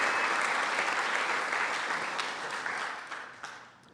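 A crowd claps at the Tokitae homecoming ceremony, a full, even round of applause that gradually thins and fades toward the end.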